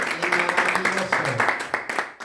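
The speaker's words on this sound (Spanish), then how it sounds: "Denle aplausos al Señor" A church congregation gives a short round of applause, uneven clapping mixed with voices talking over it.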